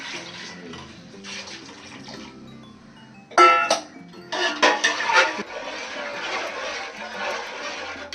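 Jaggery water is poured into a pot in short splashing bursts, with soft kitchen clatter and a faint hum in the background.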